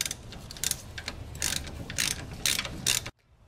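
A ratchet wrench undoes the caliper bolts on the rear brakes of a Range Rover Sport. Close, crisp bursts of clicking repeat steadily for about three seconds, then stop abruptly.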